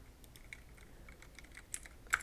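Quick, light keystrokes on a computer keyboard, a rapid irregular run of soft clicks close by with a couple of sharper taps near the end, no talking.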